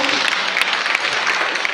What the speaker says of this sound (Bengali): প্লিজ একটু জোরে হাততালি হোক